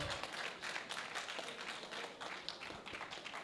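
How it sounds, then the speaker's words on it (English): An audience claps for a board chair at an agroecology week gathering in Uganda, a faint, somewhat distant patter of hands with uneven bursts running throughout. "Let's clap for the board chair."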